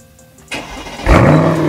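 A Mercedes E63 AMG wagon is started: a short starter whir, then the engine catches with a loud, deep bark and settles into a strong, rumbling idle heard close up with no talk.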